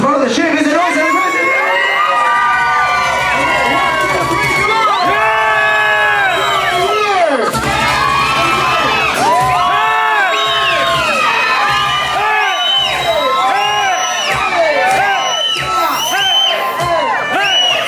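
A crowd aboard a pirate ship party cruise cheers, whoops and shouts continuously, loud and dense, with many overlapping voices.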